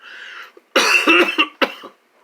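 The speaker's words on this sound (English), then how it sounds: "It's like a dry cough in here in my chest." A few dry, harsh coughs in quick succession, close and loud, after a brief faint breathy sound.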